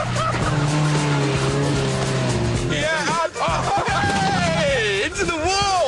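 Kei truck drifting on a track, engine revving high with rising and falling pitch as tires squeal and skid through the corner, loud and close throughout.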